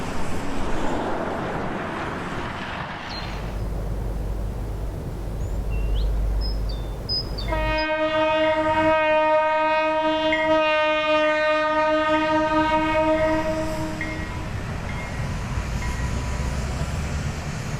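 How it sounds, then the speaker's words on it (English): Norfolk Southern freight NS 287 rumbles through a crossing beneath a CSX overpass by a steel plant, the rolling noise joined by a long, loud, steady horn blast lasting about six seconds before the rumble continues. "Again we see NS 287, this time at Middletown crossing under the CSX overpass"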